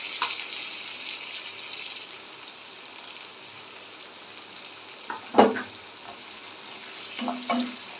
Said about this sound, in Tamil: வெங்காயம் வந்து கொஞ்சம் நல்லா வதங்கி வரட்டும்